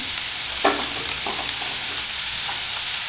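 Onion and garlic sauté in a pan for Konkani goda masala, a steady close sizzle with a few scraping stirs near the start and middle, no voices.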